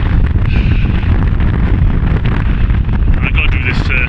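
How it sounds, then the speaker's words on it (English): Strong wind buffeting the microphone on a hilltop ridge in the Welsh hills near Crug Mawr, a loud, steady low roar and rumble for the whole stretch, with no speech heard. "Wind's picking up a bit."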